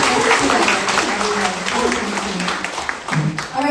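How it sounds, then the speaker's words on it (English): Audience applause at an event honoring an organizer, steady broadband clapping across the whole stretch with voices mixed in beneath it, fading slightly toward the end. "let's give a round of applause for Amanda"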